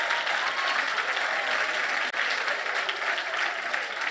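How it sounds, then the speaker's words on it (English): Steady, full audience applause fills the hall at a technology expo event, a dense even wash of many hands clapping at close range with one brief dip midway. "Let's give Pasty a round of applause."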